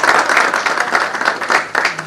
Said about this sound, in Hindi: उनके लिए भी बहुत सारी तालियां